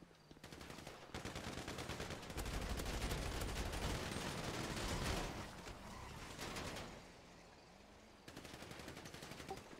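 Gunfire in a video game, aimed at the tires of a black 6x6 vehicle leaving the premises, rapid dense automatic bursts running almost continuously, loud and close with a brief lull before resuming.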